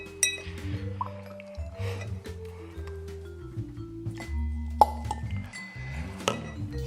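Water is poured into a glass of Jack Daniel's Single Barrel cask strength whiskey, with soft trickling, drips and light clinks of glass. The sounds come in short bursts and are close and quiet.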